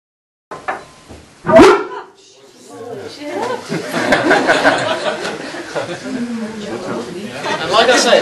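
A single sharp, whooshing bark-like burst erupts from a tube in the barking dog chemical reaction, followed by people laughing and chattering.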